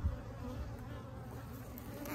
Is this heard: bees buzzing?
yes